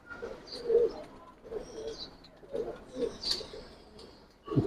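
Soft, throaty cooing from old-line Giribaz pigeons comes in a few close, repeated low phrases, with a faint chirp and a brief rustle at the end. No voices.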